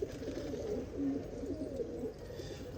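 Pigeons coo softly and continuously near a caught female pigeon with markings, the low rolling calls overlapping in a steady, close murmur with no talking.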